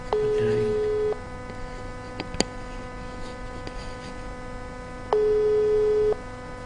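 Repeated electronic telephone ringing tones, a steady pitched beep lasting about a second, then a long pause before it sounds again, over a low hum.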